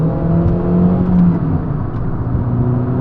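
A cheap used car pulls away from a stop and accelerates up through the gears, its engine drone steady and close with a rising whirring note and no talking.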